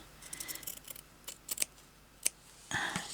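Scissors cutting through fabric for a stitched journal cover, a few quiet crisp snips and slicing strokes up close, spaced irregularly, with a slightly longer cut at the end.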